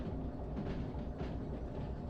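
A train rolls along the tracks in the video game Derail Valley, a steady close rumble with a faint rhythmic clatter and no pauses.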